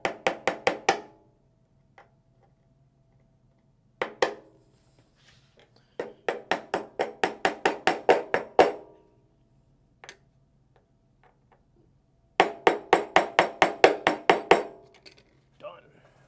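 Pins are tapped into a wooden sewing machine table for a Juki DDL9000C, heard as quick bursts of close, sharp knocks in rapid runs separated by short quiet pauses.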